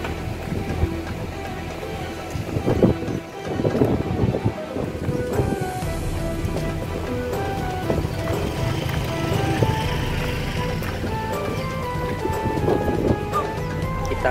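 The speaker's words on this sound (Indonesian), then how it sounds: "Jadi anginnya lumayan kencang ini," Strong wind blusters across the microphone outdoors at the Aceh museum, a continuous rough roar with gusty swells and faint background activity.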